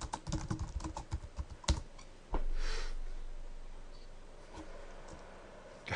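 Quick bursts of keystrokes on a computer keyboard while commands are entered for a software build on a cloud server, dense clicking for about two seconds, then a steady hum with a few isolated taps.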